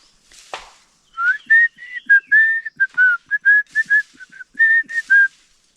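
A person whistles a rapid run of short, bright, bird-like notes, imitating forest bird calls in the Konkan; a sharp click precedes the phrase, which is close and clear with no talk.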